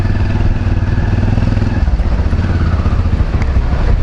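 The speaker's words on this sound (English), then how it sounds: "So I'm back at this trike thing here." A motorized tricycle on a road in the Philippines runs its engine steadily, a close, loud, rattling motorcycle-like drone with clattering throughout and no talking.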